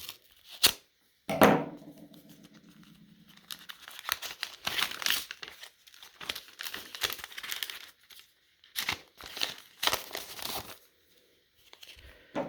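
A taped package is cut open and its packaging torn and crumpled in bursts of crinkling, tearing and scraping, close by, with short pauses and one brief low thud early on.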